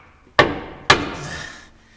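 Two sharp, loud hammer blows ring out on a dump truck motor mount, about half a second apart, each with a metallic ring that fades away, alone with no talk.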